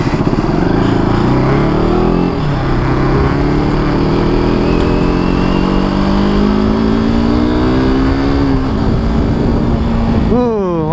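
A KTM RC 250 motorcycle on a test ride, its engine loud and close, rising in pitch through repeated accelerations and gear changes, with a brief voice now and then.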